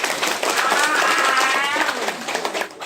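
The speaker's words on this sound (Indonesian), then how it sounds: "Tepuk tangan heula kanggo Sohibul Hajat sakulawargi." A crowd at a wedding thanksgiving gathering gives the hosts a burst of dense, close applause. The clapping stays steady for nearly three seconds, with a voice mixed faintly into it.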